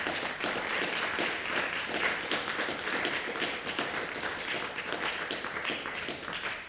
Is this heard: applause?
yes